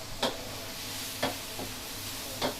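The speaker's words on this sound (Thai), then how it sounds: "อันนี้ก็คือผัดหมูนะคะ" Pork stir-frying in a pan, a quiet, steady sizzle with three or four soft scraping strokes spaced about a second apart.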